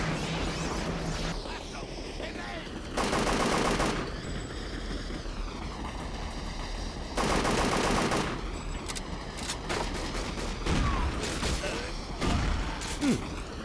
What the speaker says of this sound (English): pretty good shotgun